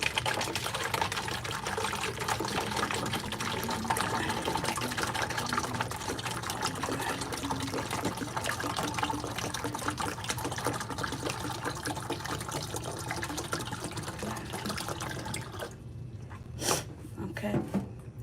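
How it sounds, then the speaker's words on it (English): Water pours steadily into a hydroponic container for a long continuous stretch, then tapers off into near quiet with a couple of brief knocks near the end. "So I'm going to pour this water in there."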